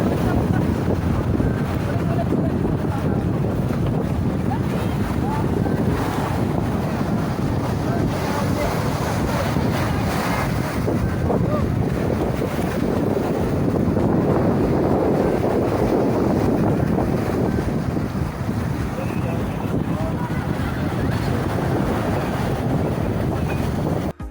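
Sea waves at Subic Bay wash and roar continuously, close and loud, mixed with heavy wind buffeting against the microphone.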